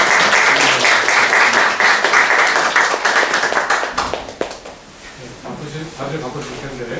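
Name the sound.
audience applause for speaker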